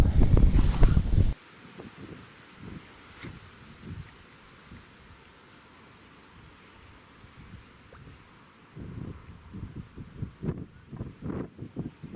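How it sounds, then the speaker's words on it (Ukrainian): A brief loud gust buffets the microphone, then a low steady wind rumble continues outdoors, swelling again toward the end. "сьогодні така погода, вітер."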